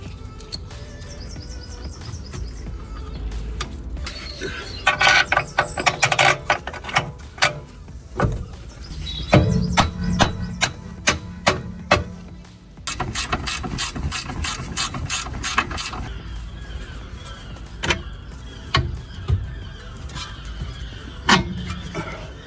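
A ratchet tightens a suspension arm bolt on a Skoda Superb during a front suspension arm replacement. Rapid clicking pawl runs sound close and loud in bursts, with some metallic squeaks and clunks in a garage.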